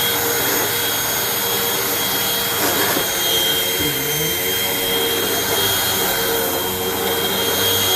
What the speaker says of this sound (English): The first step is to vacuum really good all the sizes of the wool carpet.